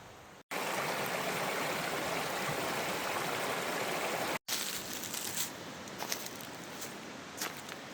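A river flows in early spring in Vermont with a steady, full rushing wash, nearby and constant, broken by two brief dropouts and a few faint crunchy steps late on.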